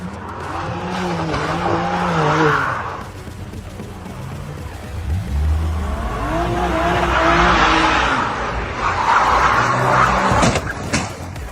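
A car brakes hard, its tires skidding and squealing in a long, loud sustained screech with engine noise, building in waves across the clip.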